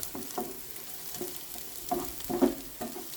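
Long beans, chilli and onion stir-frying for a Kerala thoran: a steady close sizzle broken by several louder scraping stirs about every half second to second, with no voices.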